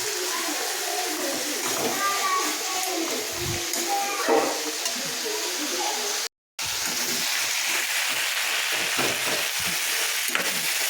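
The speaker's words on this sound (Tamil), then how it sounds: "வெங்காயம் வந்து பொன்னிறமாக வதங்கிடுச்சு" Onions sautéing in a pan until golden, a steady broadband sizzle running throughout with a brief dropout midway, faint stirring and distant bird calls underneath.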